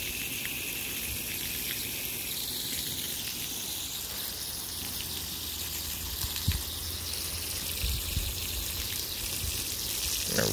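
Water pours and splashes steadily onto garden soil as plants are watered, a continuous soft gushing hiss running throughout at low level with no talk.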